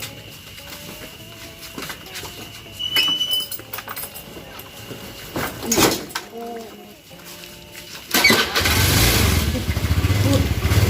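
Motorcycle engine in a Sundanese short film about a motorcycle taxi, roaring up loudly near the end after a stretch of talking voices and background bird calls.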